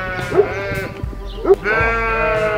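Several sheep bleat close by, with two loud harmonic calls and a third longer bleat near the end, heard outdoors among a flock in Tasmania.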